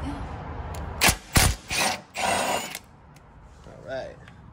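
Two 12 mm bolts come off a truck bump stop on a Lexus GX470 during a lift kit install, heard as a few short ratcheting and scraping bursts close up, then a quieter pause.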